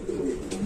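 Pigeons coo at a pigeon farm of fancy breeds, a soft low rolling coo running steadily through the short moment, near and moderately loud with no voices.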